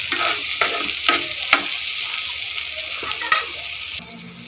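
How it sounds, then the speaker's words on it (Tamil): Bitter gourd frying in oil, a steady sizzle with intermittent scraping stirs from a spatula, close and clear, no talk. "இந்த பாவக்காய் இந்த எண்ணெயிலே நல்லா வதங்கி வரணும்."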